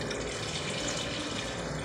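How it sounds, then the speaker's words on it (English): Water, 500 ml, poured into a pot of mutton curry with potatoes, a steady close rushing pour heard alone for about two seconds. "Now at this stage we are going to add 500 ml water along with 250 gram potatoes."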